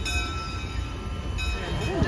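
A WW&F steam train arrives at a farm stop in winter, a steady low rumble of rolling cars with a faint whistle-like tone near the end.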